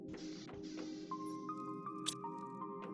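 Picking up water in the survival video game Planet Crafter, a soft wet squishy drip with small bubbly tones over a steady hum of game ambience.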